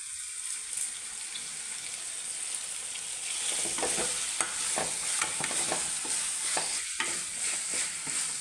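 Onion, tomato and curry leaves fry in a pan with a steady sizzle, while a spoon scrapes and knocks repeatedly through the second half and water trickles faintly.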